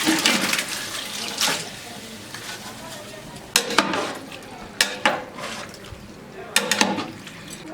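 A large batch of chicken, eight kilograms, is stirred into sizzling fried onions and spice mix for degi-style chicken korma, with scraping stirs in loud bursts over a steady frying hiss.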